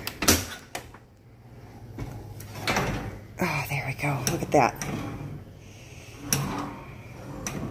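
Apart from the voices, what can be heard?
repaired dishwasher door being opened and closed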